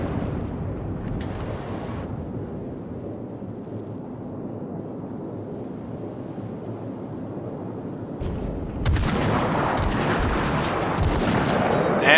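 World of Warships naval battleship combat in a video game, with a steady rumble of gunfire that swells into a loud, dense burst of heavy shell salvos and blasts near the end.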